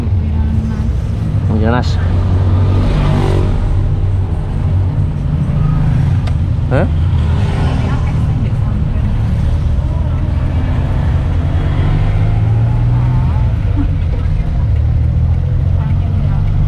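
A Daihatsu Hijet 1000 engine drones loudly and steadily from inside the small vehicle as it accelerates, with road rumble throughout and a few brief words spoken over it.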